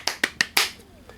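Four sharp claps in a quick, slightly uneven sequence, close and fairly loud, given as a playful rating for a soup and stew cookbook, then fading into quiet.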